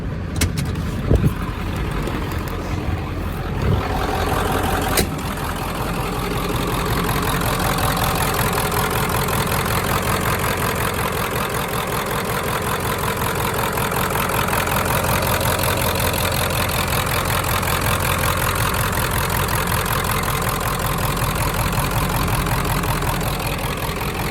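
A 1995 Ford F-350 7.3L Powerstroke diesel truck engine idles steadily and loudly up close, with a low rumbling drone and a brief click of the fuel tank valve switching near the start.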